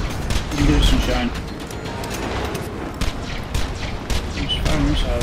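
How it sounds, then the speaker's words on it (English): Rapid gunfire and explosive missile launches in Borderlands 2 on Ultimate Vault Hunter Mode, a dense, continuous barrage of shots and booms with game voices mixed underneath. "I'm just firing missiles."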